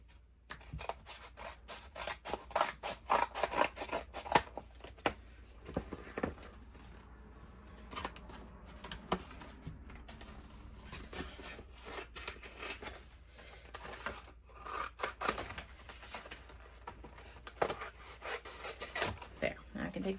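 Scissors snipping through paper scraps at a crafting table, a close run of quick, irregular cuts with papery rustling and handling between them.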